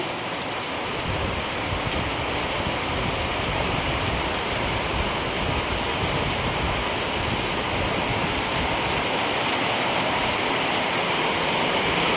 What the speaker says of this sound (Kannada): ಇವತ್ತು ಮಳೆ ಬರಾಕತ್ತೈತಿ ಇಷ್ಟು ದಿನದೊಳಗೆ